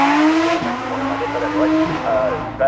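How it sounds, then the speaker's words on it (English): Mercedes-AMG GT4 race car climbing the Goodwood hill, its engine note rising and shifting with gear changes and a brief tyre squeal, fairly close and loud, with a commentator talking over it. "They're the Mercedes AMG, which is a GT4 by the look of it. Goes up the hill."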